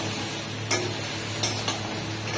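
Mixed vegetables frying with spices in a pan, a steady sizzle with a few sharp stirring clicks of a utensil against the pan, close and alone.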